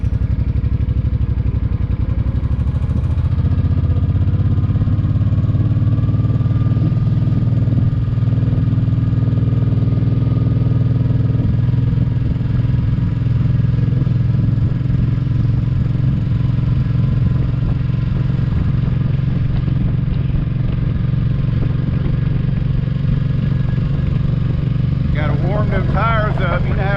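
A motorcycle engine runs loud and close, droning steadily with rising revs as the rider warms the tires, with engine clatter throughout and no talk.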